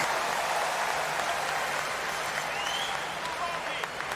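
A US Open tennis crowd applauds a point in a fourth-round match, a steady wash of clapping across a large stadium while a commentator talks over it.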